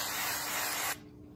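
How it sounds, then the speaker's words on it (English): Canned no-stick cooking spray hisses into a bowl in one steady, close burst lasting about a second before cutting off to quiet. "I'm just gonna be using canned no-stick spray"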